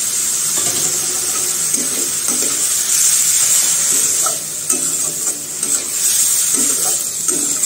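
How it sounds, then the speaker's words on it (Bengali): Lentils with turmeric, salt, cumin and chili powder are sautéed and stirred in a pan, giving a loud steady sizzle with a hissing wash and repeated soft scraping strokes of a spoon. "এখন ডালটাকে একটু ভালো মতো কষাবো।"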